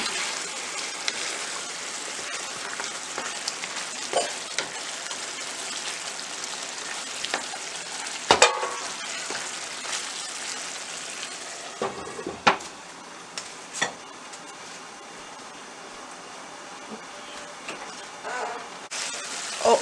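Green peas paneer curry with a spoonful of kasuri methi simmers and fries steadily in a pan, a broad continuous sizzle with scattered utensil clinks and a few sharper knocks partway through.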